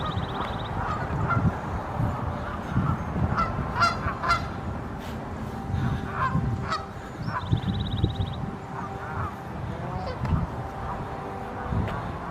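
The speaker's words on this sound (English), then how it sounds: "Making noises like Canada geese do." Canada geese honking repeatedly outdoors, a flock calling in irregular bursts over steady background rumble, with some calls nearer and louder than others.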